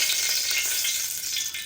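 Oil and a spoonful of ghee heating in a pan on the stove, giving off a steady close hiss and sizzle.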